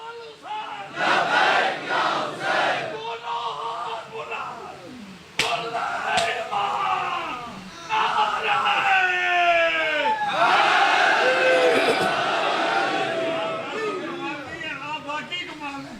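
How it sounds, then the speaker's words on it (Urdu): At a Muharram majlis for mourning, a large crowd chants the slogan Labbaik Ya Hussain in loud, repeated collective waves, with a leading voice calling out between the rising shouts. "تاریخی نعرہ بھائی، لبیک یا حسین"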